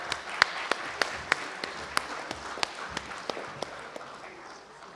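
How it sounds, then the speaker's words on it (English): Audience applause as a sports presenter walks on stage, a soft, steady wash of many hands with sharp individual claps standing out at a regular beat throughout. "a round of applause for her as well"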